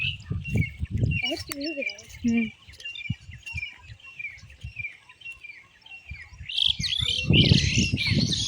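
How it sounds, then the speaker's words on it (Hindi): Many birds chirp and call outdoors by a pond after rain, with bright tweets close by and a person talking over them. "यहाँ पे कितनी ढेर सारी चिड़िया मस्त आवाज़ निकाल रही हैं"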